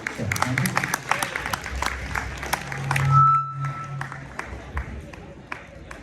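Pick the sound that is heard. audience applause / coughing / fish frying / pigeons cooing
audience applause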